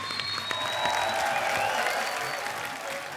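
Studio audience on an Indian comedy talk show bursts into sustained applause, a dense, steady wash of clapping from a large crowd that holds at an even level throughout.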